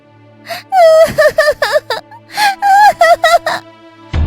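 A child wails and sobs in rising, drawn-out cries with short gasps between them, loud and close, with no other voices.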